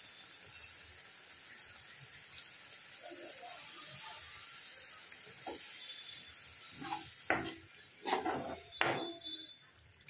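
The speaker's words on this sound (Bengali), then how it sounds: "সেই মশলাটা ধুয়ে আমি সেইটার জলটা দিয়ে দেবো" Rinse water from a bowl of leftover spice paste pours into a pan of prawn malai curry with coconut milk, a few splashy bursts near the end over a steady low hiss of cooking.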